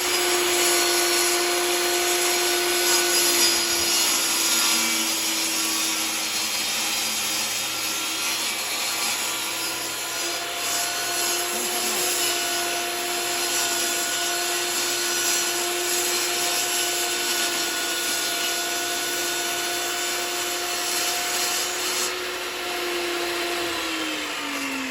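A power saw runs through plywood with a steady, loud whine that holds a constant pitch for a long stretch, rasping continuously without speech.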